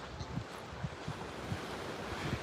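Ocean surf rolls onto an obscure beach at Indian Shores in a steady, close wash with wind buffeting the microphone and soft swells surging every half second or so, with no voices.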